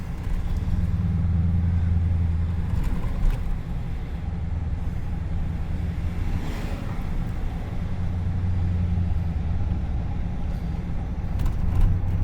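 A car climbs uphill through the streets of Winchester, Virginia, its engine a steady low rumble with road and tire noise holding evenly throughout, no talking.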